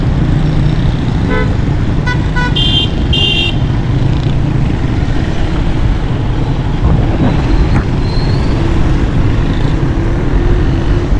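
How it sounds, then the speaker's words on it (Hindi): Busy street traffic at a main junction on Tariq Road in Karachi after heavy rain, with a steady loud roar of engines and several short car and motorcycle horn toots scattered through it. "ट्रैफिक में बहुत खलल पड़ रहा है, देखो।"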